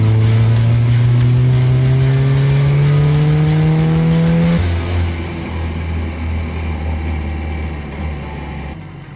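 A Formula 4 race car drives a circuit lap at a Grand Prix event, its engine climbing in a steady high whine through the gears, then dropping to a lower, rougher drone as it pulls away, loud and close with no talk.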